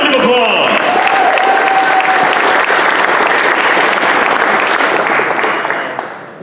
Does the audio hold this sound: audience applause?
yes